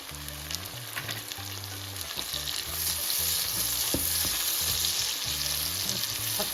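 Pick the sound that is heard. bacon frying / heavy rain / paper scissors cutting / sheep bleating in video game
bacon frying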